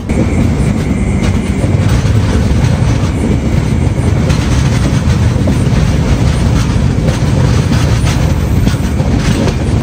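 Tirumala Express train running between Tirupati and Renigunta, a steady loud rumble of wheels on rails with clickety-clack and a faint tonal squeal early on, continuous throughout with no voices.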